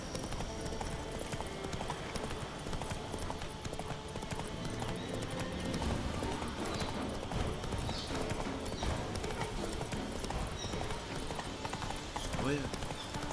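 Horse hooves clip-clopping at a gallop in the Witcher 3 video game, a steady rhythmic beat running throughout alongside game sounds, with someone talking over it.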